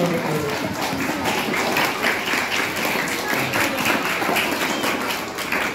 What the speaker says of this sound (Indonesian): Oke, perhatian. Tepuk tangan.